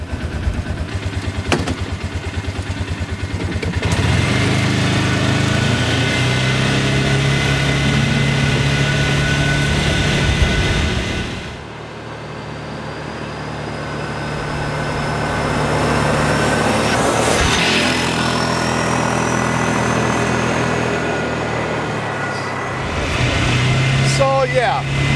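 Bobcat 3400 utility vehicle engine running as it drives, a steady loud motor drone with shifting pitch, rattles and wind noise throughout, and a voice speaking over parts of it.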